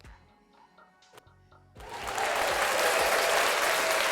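Studio-style round of applause and cheering swells in suddenly after a quiet start, then holds steady and loud to the end.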